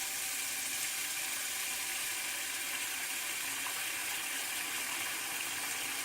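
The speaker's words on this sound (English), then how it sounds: "And just let the sink fill, as it gathers soap and stuff." Kitchen tap running steadily into a sink as it fills with soapy water, a constant close gushing hiss with no pauses or voices.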